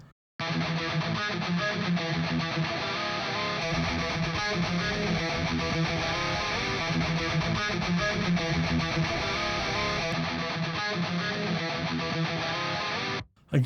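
A distorted electric guitar through an Aurora DSP Laboga Mr. Hector amp simulator with no EQ plays continuously for about thirteen seconds, with a crunchy, buzzy tone and no voices.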